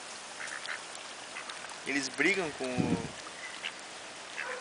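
Ducks quack at a pond with fish in Gramado. A short cluster of nasal quacks comes from fairly near, midway through, while people chat quietly in Portuguese over faint background ambience.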